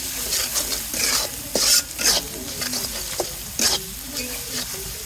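Spice paste of salt, chilli powder and turmeric is stir-fried in a pan for beef tripe curry, with a steady sizzle broken by scraping strokes and clinks of the spatula against the metal pan.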